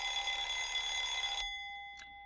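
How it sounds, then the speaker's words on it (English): An alarm clock rings in the game Danganronpa Lapse, a loud continuous electronic buzz that cuts off abruptly partway through, leaving a fading tone. "Oh, it wasn't a phone. It's an alarm clock."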